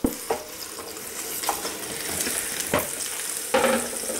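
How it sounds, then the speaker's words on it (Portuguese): Chicken pieces sizzling in a frying pan with olive oil as they brown, a steady close fry with a few sharper spatters and stirring knocks, no voices. "vamos começar por colocar em uma frigideira o nosso franguinho. Vamos corar o nosso franguinho."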